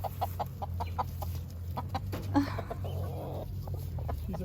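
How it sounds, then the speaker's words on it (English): Chickens cluck in repeated short bursts around a dog meeting them for the first time, with a steady low hum underneath and a brief louder squawk midway. "This is Nala's first time meeting the chickens."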